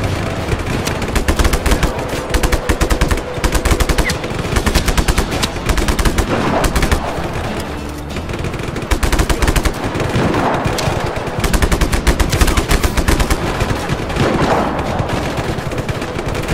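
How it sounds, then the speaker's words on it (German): Rapid machine gun fire in the game Just Cause 3 rattles almost nonstop in long, loud bursts with heavy impacts and explosions mixed in, dense and close throughout. "Wetten, die Kanone funktioniert noch?"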